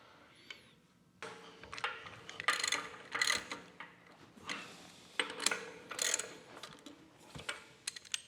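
Ratchet wrench tightening bolts on a steam stoker engine cylinder head, quick bursts of clicking ratchet strokes with metallic taps, fairly close and moderately quiet, repeated in an irregular rhythm.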